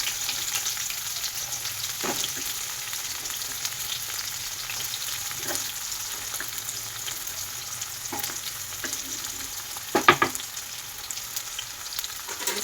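Chopped onions fry in a pan for an Andhra-style chicken curry, giving a steady, close sizzle throughout. A few sharper spatula stirs break through near the end.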